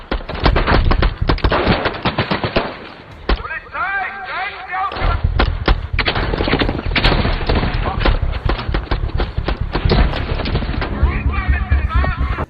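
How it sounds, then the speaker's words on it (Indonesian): Bursts of rapid gunfire crackle through a police shootout in a film, dense volleys and single shots layered over a dramatic score, loud and continuous from start to finish. "tiba-tiba mereka disergap para polisi, sehingga aksi baku tembak pun terjadi"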